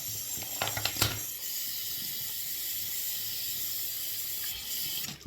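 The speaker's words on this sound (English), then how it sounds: "So maybe we should just use the same bowl and we just rinsed it out." A shaving soap bowl is rinsed under a running tap, a steady hiss of flowing water with a few clinks and splashes near the start.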